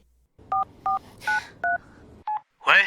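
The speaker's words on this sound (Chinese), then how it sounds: "喂，李小姐，给我打电话是有什么好事啊？" A telephone keypad is dialed with six short, evenly spaced two-tone beeps, clear and close in a quiet room, followed by a brief brighter burst of sound.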